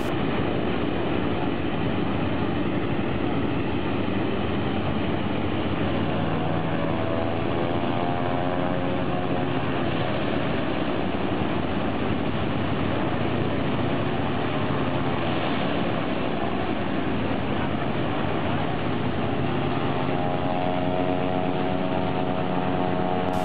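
An airplane engine at takeoff makes a loud, steady roar that holds for over twenty seconds with no voices.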